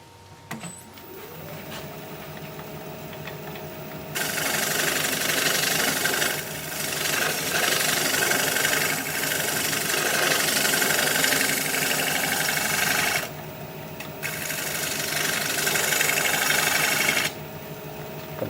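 Shear scraping on a Russian olive live edge bowl spinning on a wood lathe: a steady motor hum with a continuous scraping rasp that starts and stops in long stretches, close and fairly loud, with no speech.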